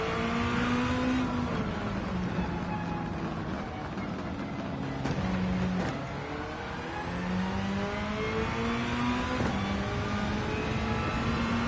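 A race car engine in Gran Turismo 7 drones loudly and steadily down a straight, its pitch climbing through gears with brief dips at each shift, heard alone and close throughout.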